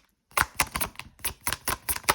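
A deck of tarot cards being shuffled close up, quick soft papery riffles and taps in an uneven rhythm with short pauses, alone and fairly quiet.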